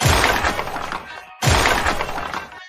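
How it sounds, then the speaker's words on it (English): A wheelchair is smashed in two loud, close crashing bursts of breaking and shattering, each lasting over a second and separated by a brief pause. "I'm going to destroy this guy's wheelchair"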